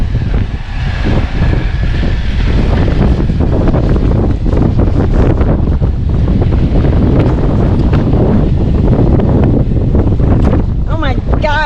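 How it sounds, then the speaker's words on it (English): Strong gusting wind roars across the microphone during a desert dust storm at Chicken Corners, a loud continuous buffeting rumble with sand blowing, steady throughout and briefly joined by a voice near the end. "It's a little windy. Got pummeled with rocks and sand"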